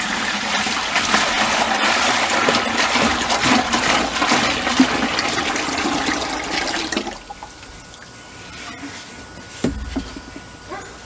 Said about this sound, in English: Then I have 9 quarts of hot water. That's going in the bucket.